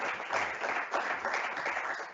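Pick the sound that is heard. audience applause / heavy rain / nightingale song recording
audience applause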